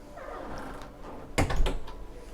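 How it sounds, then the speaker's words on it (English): Sliding pocket door on a Sanlorenzo SD96 superyacht, a soft rolling slide followed by a sharp knock and rattle as it closes, close and fairly quiet. "There's our sliding door here, so it's like a pocket door that will come across."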